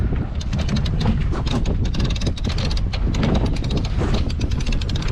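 A gust of wind strikes a double-reefed sailboat on Chesapeake Bay, a loud, continuous rushing buffet across the microphone that holds steady throughout.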